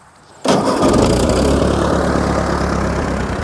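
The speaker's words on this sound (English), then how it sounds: "once I start the tractor, I'll put the PTO engage lever on" A Ford 8N tractor engine cranks and catches abruptly, then settles into a loud, steady idle close by with a deep, throbbing rumble and no speech.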